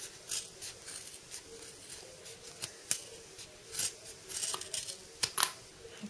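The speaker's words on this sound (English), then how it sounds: "So I'll cut close to those stitches but not through." Sharp scissors snip fabric close to the stitching of a tiny zippered keyring pouch, a series of quiet, irregular cuts and clicks close by on a calm background.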